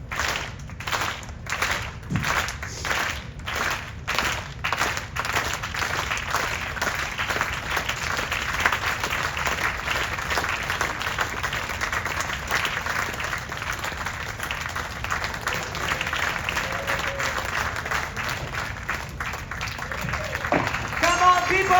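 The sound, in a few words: audience clapping at a theater show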